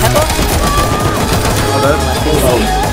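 Rapid automatic gunfire from the Rust video game rattles loudly and densely throughout, with bursts overlapping into a continuous clatter, mixed with players talking.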